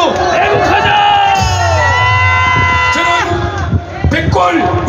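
A loud crowd at an outdoor political rally cheers, whoops and shouts continuously for about five seconds, a dense wall of voices with a few louder yells rising above the mass.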